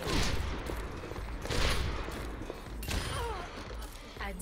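Gunshots in a video game ring out as several loud cracks with ringing tails, spaced about a second apart, over dense constant game noise.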